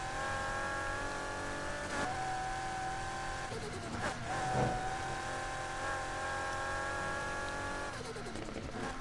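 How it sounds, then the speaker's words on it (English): A single-turbo Ford GT engine in the racing game Need for Speed Heat revs and holds a steady high whine, with brief surges and a skid, quiet beneath a talking voice. "Also, I have a single turbo in this Ford GT, I can hear it."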